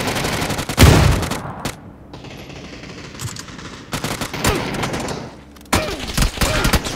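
Gunfire rattles in the PC game PUBG: loud, sharp bursts and rapid volleys of shots, separated by quieter gaps, with one heavy close report near the start.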